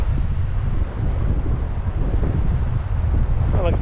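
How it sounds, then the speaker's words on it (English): Strong wind roars across an open coastal rock pool near Streaky Bay, South Australia, a loud continuous buffeting rumble on the microphone from start to end with no other clear sound. "Other than the wind, apologies for that."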